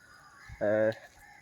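A single short, harmonic bird call rings out briefly, rooster-like, against a quiet background.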